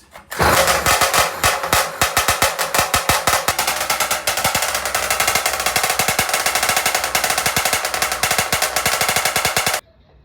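A small Chinese engine, running on only a diffuser without a muffler, blares at full volume with a rapid, sharp crackling exhaust, like staccato popping, running steadily for several seconds before cutting off abruptly.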